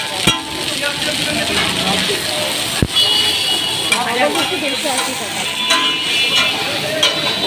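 Brain sizzles and crackles as it fries in a pan at a busy food stall, a loud steady hiss with scraping and clanks over the top, while a voice talks nearby.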